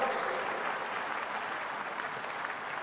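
Church congregation clapping: a continuous, even roar of many hands beating together, sustained throughout and slowly easing slightly in loudness.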